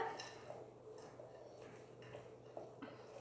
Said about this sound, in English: So now I'm just going to mix it all together